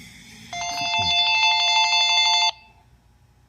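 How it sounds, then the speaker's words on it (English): A telephone rings with an incoming call from a Leak-Guardian HWICP flood-alert system: one loud, close, trilling electronic ring lasting about two seconds, then quiet. "Oh, we're getting a phone call."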